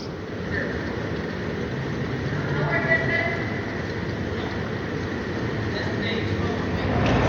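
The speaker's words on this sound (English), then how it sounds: "we're riding the L train" Steady rumble of a Chicago L train ride, a continuous low rolling noise from inside the car, with a person talking over it throughout.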